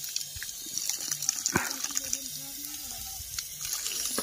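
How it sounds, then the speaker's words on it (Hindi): Tap water runs steadily into a sink while hands are washed after cutting grass, with splashing and gushing through the stretch and a voice speaking over it. "मैं भी हाथ धोता हूँ."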